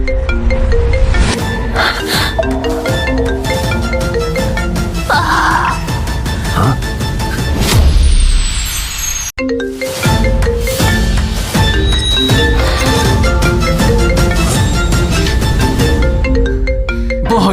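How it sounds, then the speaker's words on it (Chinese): A mobile phone ringtone plays loudly as a looping melody for the whole stretch, with one brief dropout midway before the tune resumes; no one speaks over it. "是我的电话响了"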